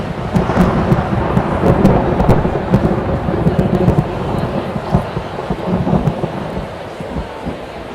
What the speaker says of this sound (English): that was the thunderclap